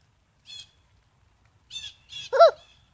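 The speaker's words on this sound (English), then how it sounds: "Oh, where's that bird at?" A bird calls outdoors, sounding like a crow: a few harsh, raspy caws in short bursts separated by silence. The final call is the loudest and nearest.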